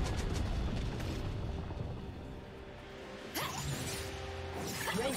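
A turret crumbling in League of Legends, a rumbling collapse with crackling debris, then a sharp burst and whoosh partway through over continuing game effects.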